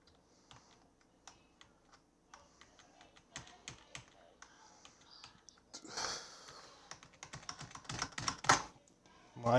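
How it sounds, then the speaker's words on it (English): Typing on a computer keyboard gives steady, close key clicks in irregular bursts that grow denser and louder toward the end, with some breathing and rustling mixed in. "Why ain't my keyboard working?"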